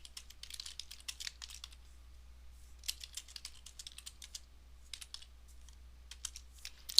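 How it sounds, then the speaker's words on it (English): Rapid clusters of keystrokes on a computer keyboard, including a tab press while indenting Pascal code in an online compiler, clicking in bursts with short pauses between them, close and fairly quiet. "Now I have to indent, so I'm going to press tab on my keyboard."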